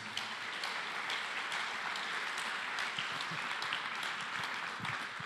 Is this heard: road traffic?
no